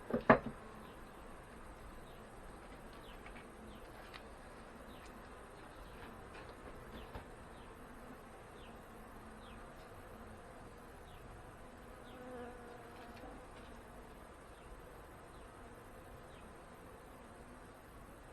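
A faint, steady hum of many honey bees buzzing continuously at an open hive, with a soft thump at the start and light scattered clicks.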